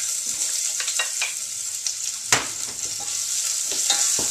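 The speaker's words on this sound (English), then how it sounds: "Okay, I'm going to saute the onions." Onions sautéing in a pan give a steady close sizzle, with a few sharp clatters of stirring and one loud knock part way through, and no voices.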